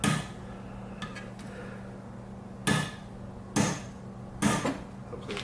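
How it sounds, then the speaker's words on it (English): Nice-and-easy hammer taps on a nut fitted over a slightly bent, heavy-duty propeller shaft from a 1966–67 Chrysler 9.2 outboard, being straightened: a faint tap, then three louder, ringing metallic strikes spaced about a second apart over steady background hum. "I'm gonna hit it up nice and easy. Straighten her out."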